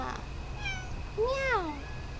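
A cat gives a short high meow, then a longer, louder rising-and-falling meow, close by against quiet background hum.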